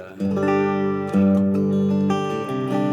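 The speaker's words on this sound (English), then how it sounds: "Nice chicken picking sound." Taylor T5Z Custom Koa electric guitar through two amps, twangy with snappy, plucked chicken-picking notes ringing out clearly, a few sharp attacks over sustained tones.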